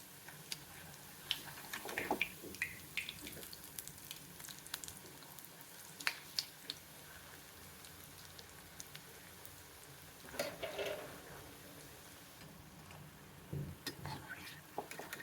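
Potato murukku frying in hot oil gives a faint, steady sizzle, with scattered soft crackles and pops and a few brief louder bursts of bubbling.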